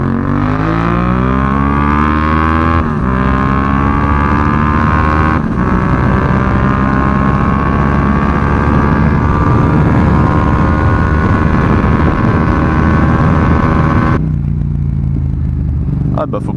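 Motorcycle engine revving up in rising harmonics during a rainy ride at the Tour de Corse stands, loud and continuous close to the rider's microphone, pitch climbing through gear changes before dropping off near the end.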